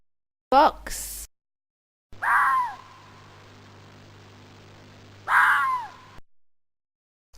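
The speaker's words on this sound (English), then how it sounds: "Fox." A fox gives two harsh, wailing calls in a forest, each loud and close, with a low steady hum between them and a brief spoken word at the start.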